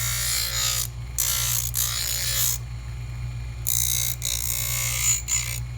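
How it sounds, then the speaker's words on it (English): A dental handpiece trims a denture reline in several short, close bursts of rasping, buzzing cutting that are separated by brief pauses, with a constant low motor hum running underneath. "You can certainly finish all the trimming with the lower case before you retrofit it back onto your model."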